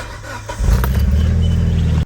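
A Mitsubishi Evo engine cranks and fires up, a brief starter whir followed by a loud, rumbling idle that holds steady at close range before cutting off.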